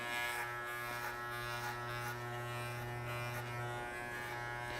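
Electric hair clippers buzz steadily and close up while cutting the hair at the back of a child's head, a constant hum that stays even throughout with slight shifts as the blades move.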